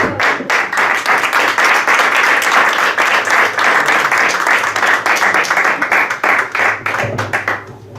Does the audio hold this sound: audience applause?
yes